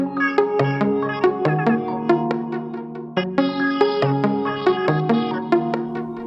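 Chopped vocal samples forming a hyperpop melody in FL Studio, quick bright plucky notes tumbling in a busy, bouncing pattern that repeats after a few seconds, steady and fairly loud with no talking.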